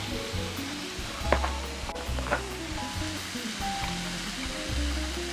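Meat browning in a hot pan for adobo gives a steady, close sizzle and crackle that runs unbroken and fairly loud, with no voices over it.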